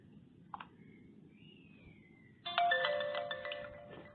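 A mobile phone chimes as an OTP text message arrives, with a faint blip first and then a loud, bright notification tone that rings out and slowly fades.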